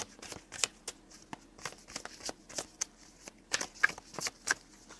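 Tarot oracle cards are shuffled and drawn by hand in a quiet room, giving soft, irregular riffles and crisp card snaps in quick bursts, close and faint, with no talking.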